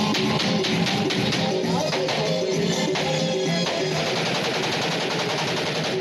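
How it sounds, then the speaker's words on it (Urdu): Celebratory aerial gunfire at a wedding festivity: rapid automatic bursts and scattered shots crackle in a dense, continuous volley at a distance, steady in loudness throughout. "شادی بیاہ کی تقریبات کی خوشی میں ہوائی فائرنگ"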